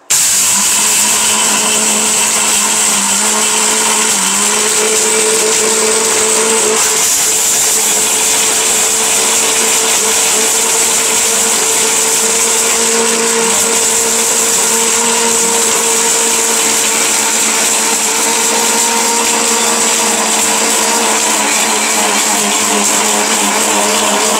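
A 1600-watt, 22,000 rpm blender with a steel bush runs continuously at full power, a loud, steady, close whine with a fairly constant pitch and a slight shift partway through, heard alone without talk.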